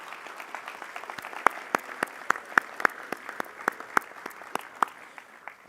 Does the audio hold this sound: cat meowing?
no